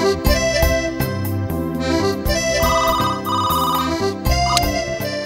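A mobile phone ringtone plays as a call comes in, a loud, continuous melodic tune with repeating chime-like notes filling the whole stretch, with no talking over it.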